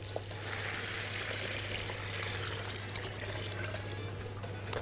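Hot water from cooking lentils pours steadily over rice for Egyptian koshari, giving a continuous close splashing rush with a low hum beneath and no talk.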